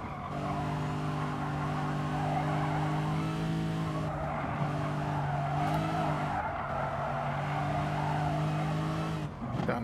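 Race car tires skid and squeal steadily while counter steering at the Autopolis International Racing Course in Gran Turismo Sport, a loud continuous screech over the engine that keeps on for the full stretch.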